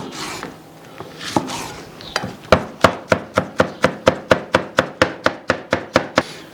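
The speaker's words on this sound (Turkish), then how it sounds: "Biberlere ince ince doğrayacağız." Rapid, steady knife chops finely cutting peppers on a board, about twenty sharp evenly spaced strikes, close and loud, after a few softer scraping sounds at the start.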